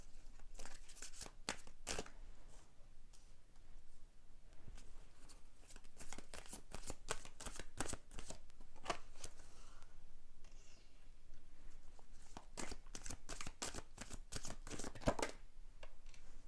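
Oracle cards being shuffled and drawn by hand, close, quiet riffling and flicking in repeated bursts of crisp papery snaps, with short pauses between bursts.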